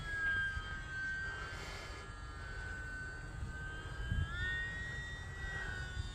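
A small UMX Pitts radio-controlled model airplane flies at a distance, its electric motor giving a faint, thin whine that rises and shifts in pitch as the plane turns and climbs.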